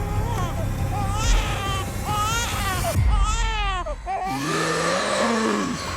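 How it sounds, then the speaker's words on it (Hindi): A small child cries in sustained, wavering wails with a few sobbing breaks, heard loud and close and alone, used as a horror podcast sound effect. "एक छोटी सी बच्चे की रोने की आवाज ने उसका ध्यान खींच लिया।"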